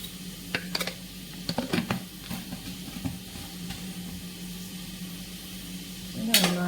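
Onions being stirred in a pan with salt until they wilt, soft scraping and clinks of a spoon against the pan over a faint sizzle, with quiet speech in the background.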